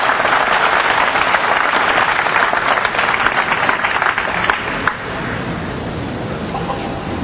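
A crowd applauds at a pool match, dense continuous clapping that holds strong for about five seconds, then drops away into a quieter room hum.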